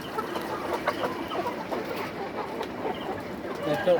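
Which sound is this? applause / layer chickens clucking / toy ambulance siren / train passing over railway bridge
layer chickens clucking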